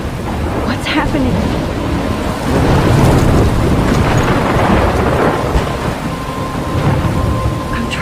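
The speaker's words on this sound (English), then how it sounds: "I'm trapped in a storm?" A heavy thunderstorm in the video game Life is Strange, with loud, dense rain pouring steadily and deep rumbles of thunder swelling through the middle, close and enveloping.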